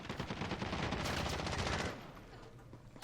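Rapid automatic gunfire from the video game Call of Duty Warzone, a dense, loud burst of shots lasting about two seconds before trailing off into a quieter tail.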